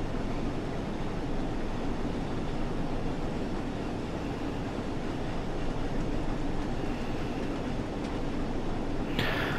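The Flying Scotsman steam locomotive runs in the Train Sim World 4 video game, a continuous, dense rumble of rolling wheels and running gear that holds steady throughout with no voices.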